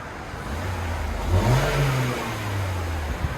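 A stock 2020 Toyota Corolla hatchback with a 2.0-litre four-cylinder engine is revved once from idle, climbing and then settling back, close by over a steady idle hum.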